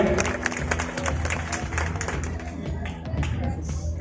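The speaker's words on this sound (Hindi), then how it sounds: "श्री संजय सिंह जी भाजपा जिला उपाध्यक्ष, इनके लिए भी एक जोरदार ताली होना चाहिए।" Loud applause and clapping from a crowd at a memorial gathering in Barhaj for the late former MLA Ram Prasad Jaiswal, greeting BJP district vice-president Sanjay Singh; dense continuous clapping fills the moment, with music or voices faintly beneath.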